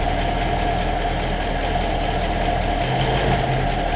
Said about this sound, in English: The engine will pick up a little bit of RPM when I do that